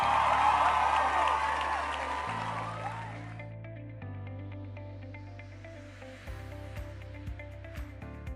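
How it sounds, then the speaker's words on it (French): A burst of applause and cheering, a broad rushing wash of clapping that fades away over a few seconds while light music continues underneath. "Et ça s'applaudit."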